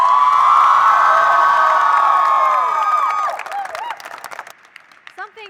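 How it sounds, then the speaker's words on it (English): A convention hall crowd at a state FFA gathering bursts into loud applause with cheering and whoops, sustained for about three seconds before thinning into scattered claps and a few shouts. "give another round of applause for our chorus director, Mr. Robert Eckert."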